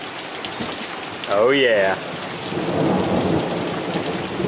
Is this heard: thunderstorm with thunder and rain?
yes